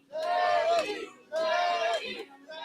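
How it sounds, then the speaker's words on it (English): A crowd at a live window-tint competition final in Los Angeles erupts in loud cheers and yells, two sustained roaring bursts with a third building at the end. "The crowd erupts"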